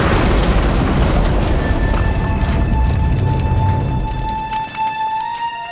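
A bomb explodes in a pickup truck as a loud, dense boom that roars and rumbles for several seconds, then slowly dies away into a faint crackling tail.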